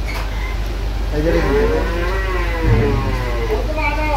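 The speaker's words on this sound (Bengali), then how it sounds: "গরুগুলো সংগ্রহ করছে শাহাবুর ভাই।" Cattle mooing at a livestock market, Sahiwal and Friesian bulls, with several drawn-out, wavering calls, moderately close over steady low rumble and background chatter.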